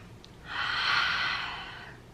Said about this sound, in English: Let's give it a little sniff test.